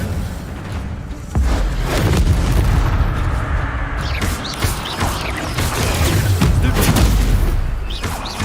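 Incendio fire spell cast in Hogwarts Legacy, a loud booming whoosh bursting in and roaring on as a dense, sustained crackling blast with heavy low rumble.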